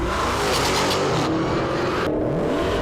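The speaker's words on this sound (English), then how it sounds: "As soon as the light changes, the Demon takes off." A 2018 Dodge Demon launches and accelerates hard, a loud, dense engine roar filling the whole stretch with no pauses and a couple of abrupt shifts in tone.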